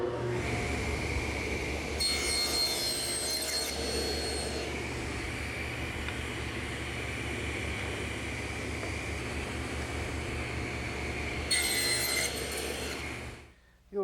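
A table saw whines steadily as wood held upright in a tenon jig is fed through the blade, with two brief harsher bursts as the cut engages at start and end, no voice.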